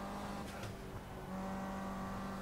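A race car engine in the Project Cars racing game holds a fairly quiet, steady drone with a sustained tonal hum, rising slightly partway through.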